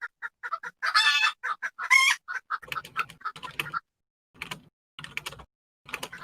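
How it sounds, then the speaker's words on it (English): Someone types on a computer keyboard close by, with irregular bursts of sharp key clicks separated by short pauses. No one speaks. "I hear somebody typing."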